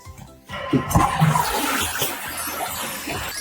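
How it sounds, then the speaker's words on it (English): A toilet flushes in a children's cartoon story, with a sudden loud rush of water that starts after a brief quiet moment and keeps running steadily to the end, with no talking. "Every time you leave the toilet, you need to flush it."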